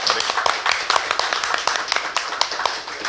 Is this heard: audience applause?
yes